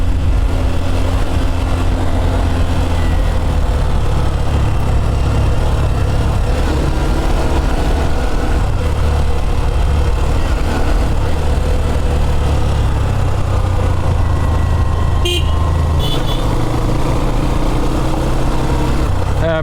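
Engine rumble from a group of about twelve motorcycles heading up a mountain road toward Keokradong in Bangladesh, a steady loud low drone throughout with a brief rattle near the end.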